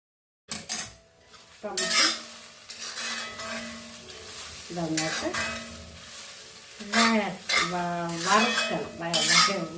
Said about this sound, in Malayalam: വഴറ്റല്ല വറുക്കണം